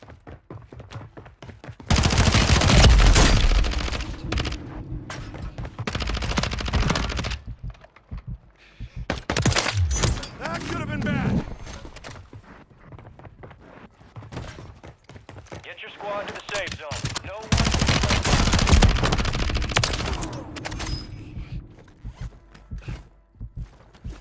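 Gunfire from Call of Duty Warzone comes in loud, dense bursts of rapid shots, spaced across several spells of shooting, with someone talking over the action.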